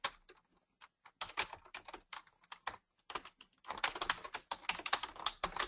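Fingers type data entries on a computer keyboard in Word 2013, quiet rapid key clicks in uneven bursts separated by short pauses, with no talking.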